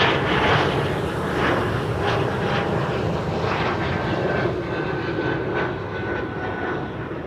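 An Embraer E2 jet takes off at Amsterdam Schiphol bound for Belgrade, its engines giving a loud, steady roar across the full 7 seconds with a broad, even rumble and no voices.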